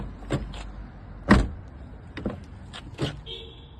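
Door of a Honda Jazz hatchback swinging and shutting with a stiff, overly tight action, giving several short clunks and knocks up close, with a brief whirring tone near the end and no talk.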